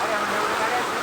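Very heavy downpour during a tahlil gathering, a broad, steady roaring wash of rain that stays constant and fairly loud from start to finish.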